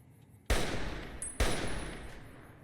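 Two sharp SVT-40 rifle shots in Fallout New Vegas, each a loud crack about a second apart with a long rolling echo trailing behind.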